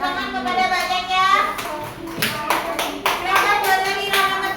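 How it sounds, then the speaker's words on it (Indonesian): Children clap in a classroom coding and artificial intelligence lesson, a steady patter of small hands close by with a voice and chatter over it. "Silakan tepuk tangan kepada banyaknya"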